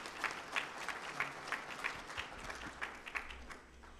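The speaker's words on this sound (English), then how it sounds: "Andrew started to lead a round of applause, in fact, a standing ovation for Hakan" Applause from an audience in a conference meeting room rises into a standing ovation after a closing speech at a pulses conference, a steady wash of clapping with regular peaks that keeps going throughout.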